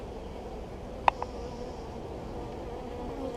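Bees hum faintly around a beehive, a low, steady buzz under outdoor noise with a couple of brief clicks near the start.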